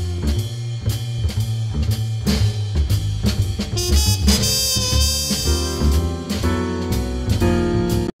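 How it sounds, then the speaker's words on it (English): A music mix of bass, drums and trumpet plays loud and full, with punchy drum hits, a steady bass line and brassy trumpet lines rising in the middle. "we just want the bass, drums, and trumpet"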